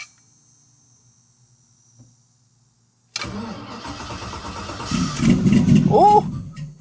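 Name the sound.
car engine cranked by the starter and starting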